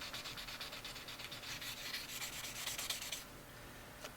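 Abrasive rubs back and forth along a handmade knife blade near the handle and spine in quick repeated scratchy strokes. The sound is faint and close, then eases to a lighter hiss at the end.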